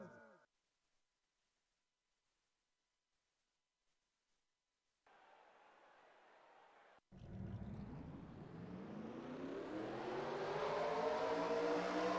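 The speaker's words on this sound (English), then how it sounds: "Drivers, start your engines!" Race car engines fire up in a NASCAR-style racing video game at Atlanta after a near-silent stretch, the whine sweeping upward as the revving swells louder and denser toward the end.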